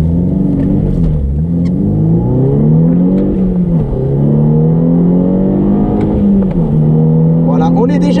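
A Volkswagen car accelerates hard from standstill to 100 km/h, the engine note climbing in pitch through successive gear changes, loud and close as if heard from inside the cabin, with a voice speaking over it.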